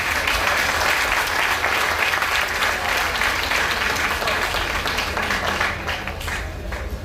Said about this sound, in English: So give Tessa a round of applause.